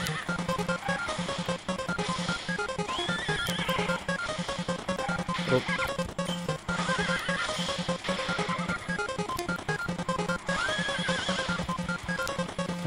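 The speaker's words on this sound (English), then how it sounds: "The horse sound, man." Loud, continuous horse neighing with galloping hoofbeats beneath, mixed into dense electronic racing game audio from QQ Speed Mobile with occasional crashes.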